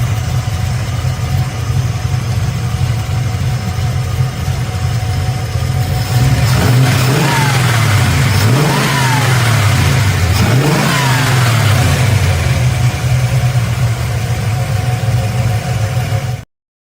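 A powerful small block Chevy car engine idles with a deep, steady rumble, then is revved several times in quick rising-and-falling surges before settling back, loud and close throughout.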